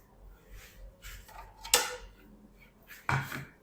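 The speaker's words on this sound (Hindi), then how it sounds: "एक अंडा कटर ले लेंगे। ये देखिए, तो अंडों को ना हम जल्दी से कट कर लेते हैं।" Boiled eggs sliced with an egg cutter, two sharp metallic clicks of the wire cutter snapping through, with soft handling noises in between, close and quiet.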